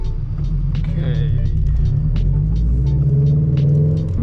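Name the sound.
Toyota GR86 on E85 driving on the parkway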